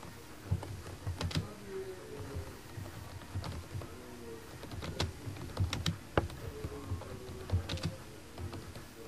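Keyboard shortcuts are typed on a computer keyboard in short bursts of close, crisp key clicks with brief pauses between them, alone without talk.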